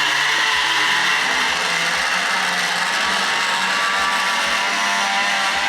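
Motor of a Tri-ang R.55 single-ended model diesel locomotive fitted with two motors, straining to pull a rake of coaches: a constant high electric whine close up, with faint low ticks from the track at irregular intervals.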